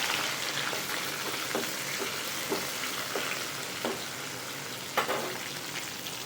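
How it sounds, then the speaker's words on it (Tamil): Chopped onion and tomato fry in a pan with a steady, close sizzle, broken by occasional soft pops and stirring ticks. "வெங்காயம் தக்காளி ஒன்று கட் பண்ணி வச்சுருக்கேன் அதையும் சேர்த்துக்கிறேன்"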